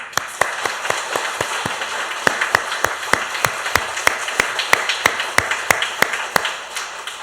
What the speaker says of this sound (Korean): 하나님의 은혜에 감사하는 박수를 손바닥이 아프도록 치겠습니다